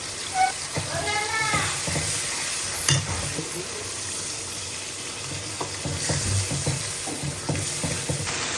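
Masala spice paste with tomato bubbles and sizzles in oil in a pan, a steady frying hiss with stirring scrapes and occasional spoon clinks, close by.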